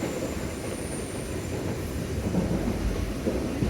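A Southeastern train rumbles past steadily on the slow lines with a low, continuous roar and faint rail clatter, fairly close, with no voices.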